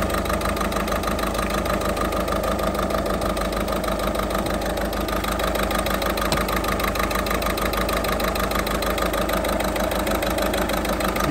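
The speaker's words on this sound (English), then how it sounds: "And you see the engine little bit vibration." A Citroen/Peugeot car engine idles with a slight vibration, producing a steady, close, continuous rumble with a faint knocking pulse and no talk throughout.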